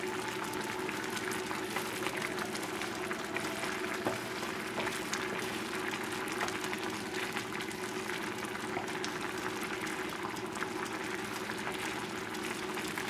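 Spinach and mushroom risotto cooks over a high flame with a continuous low bubbling and soft popping, an even, moderately quiet simmer that carries on alone for several seconds.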